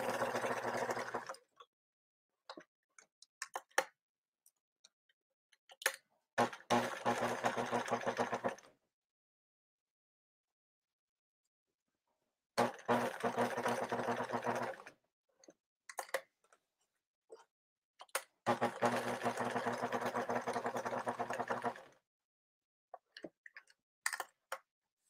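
A sewing machine stitches lace onto upcycled clothing in three separate runs of steady mechanical whirring. Each run lasts several seconds, with quiet pauses between them filled by small clicks and handling sounds.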